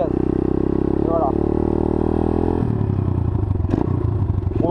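A YCF 125 pit bike idles and pulls away on light throttle while the clutch is eased out. The engine chugs steadily and loud, with its pitch shifting and some clatter, under a voice giving instructions.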